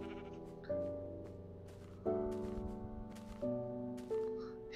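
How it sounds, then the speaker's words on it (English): Four wavering baas from Minecraft sheep ring out one after another at close range, each bleat rising sharply and then tapering off, with nothing else heard between them. "We got two sheep in here."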